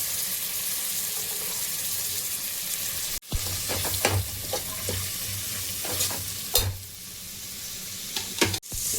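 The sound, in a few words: vegetables (carrot, beans) frying and being stirred in pan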